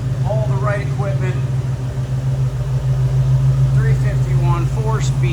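A 1969 Ford Mustang Mach 1 fastback with a 351 V8 and four-speed idles in a steady, low, even rumble that runs throughout, while someone talks over it.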